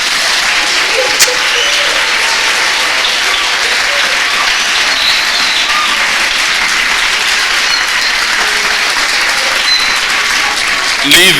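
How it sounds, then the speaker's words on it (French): Loud, sustained applause from a large gathered audience during a sermon, a continuous roar of clapping with faint voices mixed in and a few sharper claps standing out near the end. "applaudis encore"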